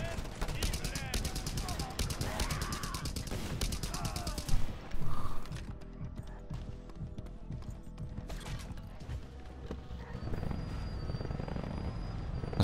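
Rapid gunfire in the video game Just Cause 2 rattles loudly for several seconds amid vehicle and engine noise, then drops away to quieter ambience with a faint rumble building near the end.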